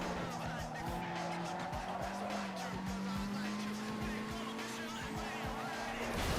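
A car's tires squealing and skidding under the handbrake in Need for Speed Underground 2, a sustained screech over a droning engine as someone talks over it.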